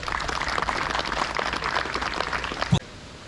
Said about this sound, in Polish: Także wielkie brawa jeszcze raz